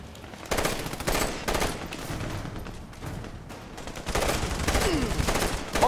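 Bursts of automatic gunfire and scattered shots from the video game Army of Two: The Devil's Cartel, coming in rapid clusters with brief gaps, loud and close.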